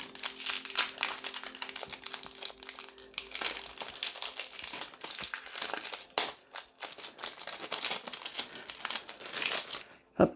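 Foil wrapper of a Pokémon Lost Origin booster pack crinkles and crackles continuously for about ten seconds, close and fairly loud, with dense bursts of crumpling and tearing and no talking.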